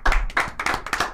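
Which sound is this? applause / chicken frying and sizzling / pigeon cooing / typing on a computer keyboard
applause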